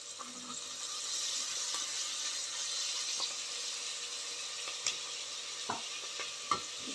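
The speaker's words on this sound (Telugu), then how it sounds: "ఇప్పుడు బాగా కలుపుకున్నాం," Tomatoes and turmeric fry in a pan for carrot rice, a steady broadband sizzle running throughout while a spoon stirs with a few short scraping clinks near the end; no one speaks.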